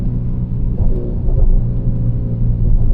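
An Alfa Romeo Giulia 2.0T with an upgraded big turbo accelerates, its engine a loud, steady low rumble that swells slightly as it pulls through an overtake, heard from inside the car.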